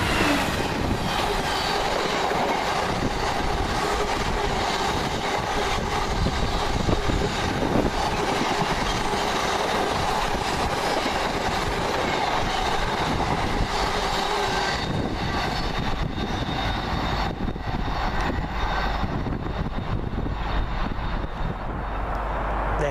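Class 66 freight locomotive 66.132 passes with its wagons, a continuous loud rumble and rattling wheel noise lasting the whole stretch, easing slightly toward the end.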